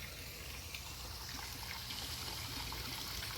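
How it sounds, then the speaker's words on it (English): Garden creek water flows steadily past a dock and pond in a Japanese-inspired landscape, a soft continuous trickle and wash heard alone at low level throughout. "the creek"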